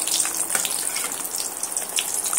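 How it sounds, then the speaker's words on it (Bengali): Paratha frying in hot ghee, a steady bright sizzle and crackle with spitting bursts, close and continuous throughout. "এই যে এইভাবে আমি সমস্ত পরোটাগুলো ভেজে নেব।"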